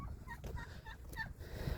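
Turkeys gobble in a few short, warbling bursts at moderate distance on a farm where geese are also being herded, with a steady low rumble of outdoor noise underneath.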